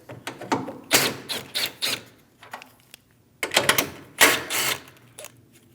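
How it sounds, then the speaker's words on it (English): A 10mm bolt and nut come off the top isolator of an AC condenser on a 2016-2025 Chevrolet Malibu, heard as loud close bursts of ratcheting wrench clicks separated by short pauses. "Remove the 10mm bolt and nut for the top isolator."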